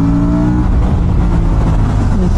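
An Aprilia RS457 motorcycle engine revs in sports mode, a loud, close, sustained growl with a rising pitch early on, steady and without talk over it.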